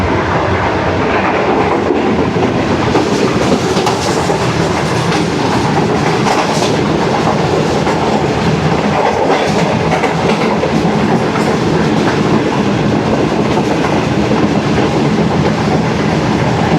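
Shalimar Express passenger train rushes through Mehrabpur railway station at speed, heard from on board as a loud, continuous roar with rhythmic clickety-clack of wheels over rail joints, no speech.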